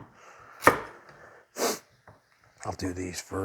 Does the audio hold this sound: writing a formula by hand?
no